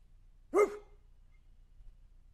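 One short, sharp dog bark, near and moderately loud, alone against a quiet background.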